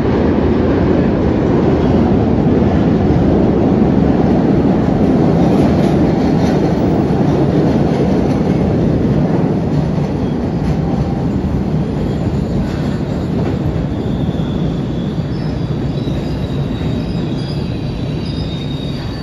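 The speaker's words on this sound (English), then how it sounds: "Now we're on a train headed to Ashmont." Boston Red Line subway train heading to Ashmont, a loud steady rumble of wheels and car noise with faint squealing, continuous and close for the whole stretch with no talk.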